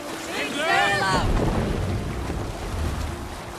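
Viking longship sailing on the open sea in Assassin's Creed Valhalla, a steady wash of wind and water with a brief tonal whistle early on, continuous and fairly loud throughout.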